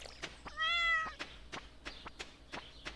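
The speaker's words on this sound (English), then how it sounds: "Let's water the cat." In Stardew Valley, a cat gives one clear, drawn-out meow over a quiet game background of soft, regular tapping steps.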